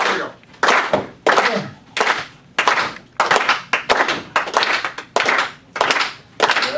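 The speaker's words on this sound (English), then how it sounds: "let's get some simple rhythm going then. Ready? Clap. Clap." An audience at a clean comedy magic show at Trinity's Speakers Forum claps together in a steady, simple rhythm: about ten loud, crisp bursts of group clapping, evenly spaced with brief gaps between them.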